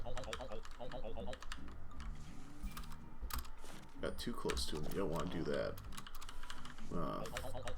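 Steady clatter of computer keyboard keys, the Q among them, is pressed rapidly while playing Spiral Scouts, close and continuous beneath someone talking over game sounds.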